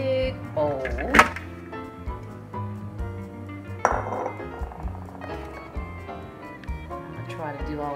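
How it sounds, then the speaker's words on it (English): Cooked pasta is dumped into a big bowl, giving clattering knocks and clinks of the bowl and utensils at close range, with a sharp clank near the start and another midway, under a person talking. "So first thing is just to dump all the pasta into this big bowl."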